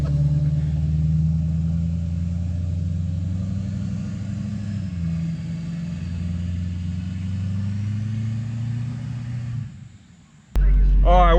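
A lifted GMC Yukon swapped with an LBZ Duramax diesel drives along, its low engine drone steady and loud throughout, rising slightly midway before cutting out briefly near the end; voices talk over it.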